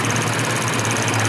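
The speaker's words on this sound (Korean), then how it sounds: "아, 확실히, 직분사 엔진." A Lexus GS350 direct-injection engine runs at a steady idle, a continuous close hum with faint rapid ticking and no voices.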